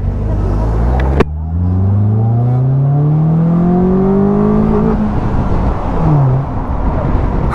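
Trike taxi pulling away toward the Brandenburg Gate in Berlin, its engine rising in pitch through the gears with rising and falling revs, loud and close with no talk.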